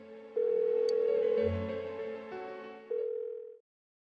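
A phone rings unanswered in Persona 4 Golden: two long, loud electronic ring tones with a short gap between them, clear and close, then sudden silence.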